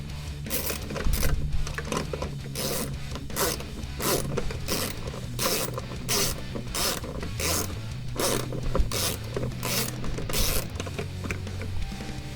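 A car seat slider rail is released with a small lever and pushed up by hand, clicking in a regular rapid series of notched ratcheting steps that continues for about twelve seconds.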